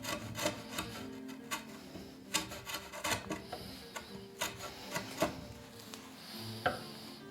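A hand plane works over a wooden Greenland paddle to flatten it, making repeated rasping, rubbing strokes with sharp scrapes in an uneven rhythm, close and fairly quiet.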